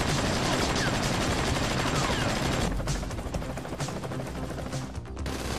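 Gunfire in Grand Theft Auto V rattles in a dense, continuous burst that eases off partway through, with voices talking over it.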